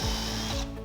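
A power drill whirs briefly while driving a screw into wood, a close, loud, short burst whose motor pitch drops as it slows near the end.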